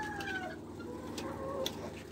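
Chickens on a small farm village house near Lahore give soft, scattered clucks and a few brief calls, faint over a low background hum.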